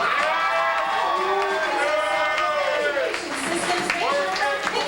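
Dense crowd cheering and clapping for the last member of a 2003 university orientation team at an event, loud and continuous with shouts layered over steady applause.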